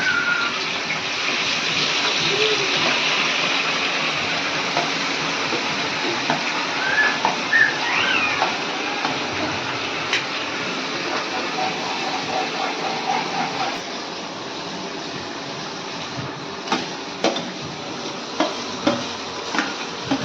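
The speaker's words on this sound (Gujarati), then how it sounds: "આપણે આ વઘારમાં ડુંગળી નાખી દેવી" Chopped onion sizzling in hot oil tempering for pav bhaji, a steady close hiss of frying with occasional light clinks and stirring taps, fading slightly toward the end.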